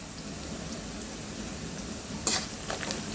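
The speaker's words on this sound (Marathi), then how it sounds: "यालाही छान दोन तीन मिनटं परतून घ्यायचं आहे" Green chilli, red chilli and ginger sautéing in a pan for an aloo palak dish, giving a steady close sizzle with a few brief stirring scrapes near the end and no talking.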